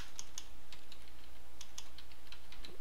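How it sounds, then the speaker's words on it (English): Typing on a computer keyboard while writing a note in the Tomboy note-taking app on Ubuntu 9.10, heard as a steady run of light, quick key clicks over a quiet hum, with no talking. "you can type whatever you want down here"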